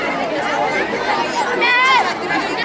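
Dense crowd of devotees at Geeta Dham temple in Jalgaon, Maharashtra, a steady babble of many overlapping voices filling the space, with a few louder individual voices rising briefly above the general hubbub.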